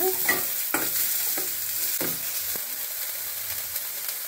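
Onions frying in a pan for an avarekalu saagu, a continuous bright sizzle with several distinct scrapes of a spoon stirring through them early on, close and fairly loud, no voices.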